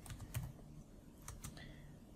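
Someone types a sentence into a LaTeX document on a computer keyboard, with faint, quick key clicks in short irregular bursts against a quiet background.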